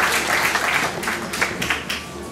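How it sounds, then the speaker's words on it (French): Audience applause for a beauty pageant contestant at an evening Miss election, a dense round of crowd clapping, steady and fairly loud, filling the hall without talk over it. "on peut l'applaudir bien fort"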